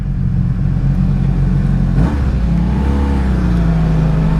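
A 1985 Honda Magna V65 VF1100C motorcycle engine revs hard and steadily, its loud low drone holding then climbing in pitch partway through, close by.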